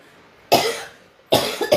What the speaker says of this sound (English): a bit of cough